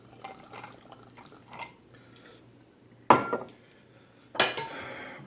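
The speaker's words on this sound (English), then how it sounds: "Then you're going to pour your alcohol." Alcohol being poured into a glass of ice while a cocktail is made, soft clinks and trickles at first, then two sharper bursts of liquid splashing over the ice, close and clear.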